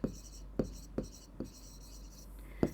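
A pen writes on paper during a primary-school lesson on recording purchased items, giving several quiet scratching strokes with short taps in an irregular rhythm, close by and alone.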